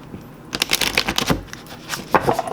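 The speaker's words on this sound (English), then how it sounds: "Let's see how they shuffle and see what we get." Oracle cards are shuffled in quick riffling bursts, a rapid flurry of crisp flicks followed by a few more shuffles.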